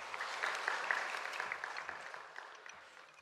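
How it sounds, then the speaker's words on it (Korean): Congregation applauding together in a church during a Thanksgiving testimony service, a dense, steady wash of clapping that fades slightly toward the end, with no talking. "다 같이 큰 박수로 맞아 주십시오."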